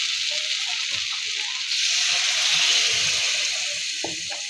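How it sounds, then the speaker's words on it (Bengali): Hot water is poured into lentils frying in a pan for dal bhuna, producing a constant broad hissing sizzle that swells slightly midway and stays loud and close throughout. "এখন দিয়ে দিব পরিমাণ মতো গরম পানি।"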